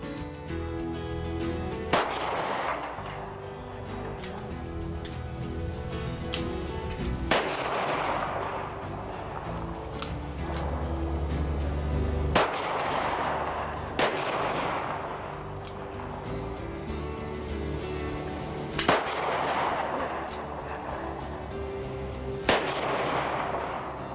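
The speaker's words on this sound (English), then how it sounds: "Go ahead and take your first shots, aim at your targets, and carefully squeeze off, concentrating on accuracy." Rifle shots at an outdoor shooting range, several sharp loud reports spaced a few seconds apart, each followed by a decaying echo, with no talking between them.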